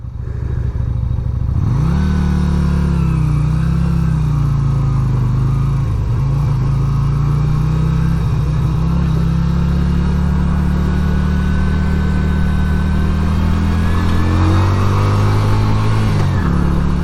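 A 1988 Yamaha Virago 250 motorcycle engine with a newly installed carburetor idles loudly, then is revved up and held high for a long stretch before dropping back down near the end.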